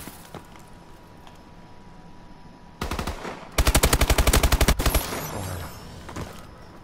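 Gunfire from Call of Duty Advanced Warfare: a short automatic burst, then a fast, loud, evenly spaced machine-gun volley of a dozen or so rounds. A quiet voice speaks briefly in French before the shooting.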